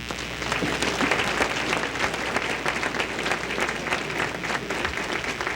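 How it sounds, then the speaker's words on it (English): An audience at a Chamber of Commerce Citizen of the Year honor breaks into sustained, dense applause, steady and fairly loud throughout with no voices on top. "I'd like you to give him a big round of applause"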